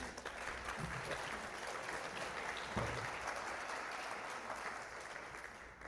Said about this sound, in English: Let's give another round of applause to Webb and Martin.